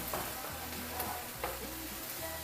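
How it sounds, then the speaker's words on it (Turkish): Isot pepper gets stirred into a sizzling penne arrabbiata sauce in a pan, a steady close frying hiss broken by a few soft scrapes and clicks of the spoon. "ve şöyle bizim isot dediğimiz biber var ya o biberden de içerisine attım ve karıştırmaya başlıyorum tekrardan"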